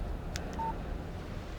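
A short phone alert from a text message arriving in the Alan Wake video game: two quick bright blips followed by a brief steady tone, heard over a low ambient rumble with no talking.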